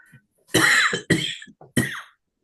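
Three harsh coughs, one long and two shorter, spaced about half a second apart, close and clear with faint breaths between.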